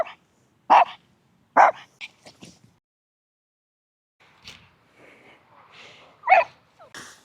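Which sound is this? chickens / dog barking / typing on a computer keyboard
dog barking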